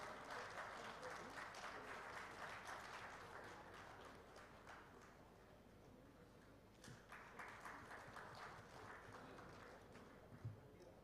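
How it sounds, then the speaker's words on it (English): Applause at a conference memento presentation, a steady round of clapping from the audience heard faintly and at a distance, continuing throughout with a few sharper claps standing out near the end. "Could we please have a big round of applause?"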